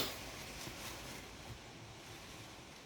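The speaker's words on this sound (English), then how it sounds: "There's a storm coming, so you might hear some things in the background rattling and stuff." Stormy wind gusting through an open car window, a continuous faint broadband rush with soft buffeting and no talking.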